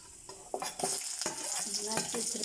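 Tempering spices spluttering in hot sesame oil in a pan for a vegetable kurma, a lively sizzle broken by several sharp scraping stirs and clinks of a spoon against the pan, close and clear with no voices.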